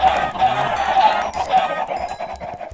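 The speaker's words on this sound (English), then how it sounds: "There's so many chickens!" Several chickens cluck in the Minecraft game world, a busy, steady flock of clucks and squawks close by that fills the whole stretch with little pause.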